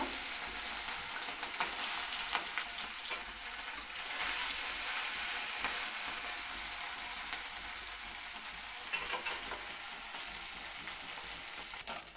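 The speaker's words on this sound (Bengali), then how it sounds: "এবার অল্প অল্প করে মাছগুলি ভাজা করে নিতে হইব" Small mourala fish fry in hot mustard oil in a wok, giving a steady, dense sizzle and crackle that holds for the whole stretch with no talking.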